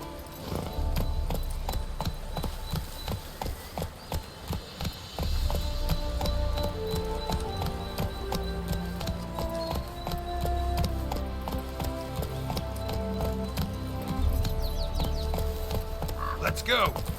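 Horse hooves clip-clop at a gallop in The Witcher 3, a steady rhythmic beat close by under game music and ambient layers, running throughout without letup.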